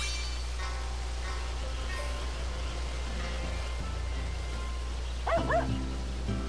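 A dog in the rice-farming game Sakuna: Of Rice and Ruin gives a short burst of barks near the end, heard over a steady low background hum, with rain-like texture throughout.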